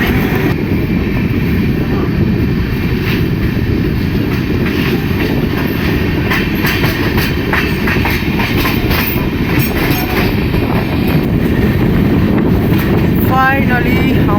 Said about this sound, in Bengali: আমাদের train Jasidih weekly superfast express Bardhaman station ছেড়ে বেরিয়ে যাচ্ছে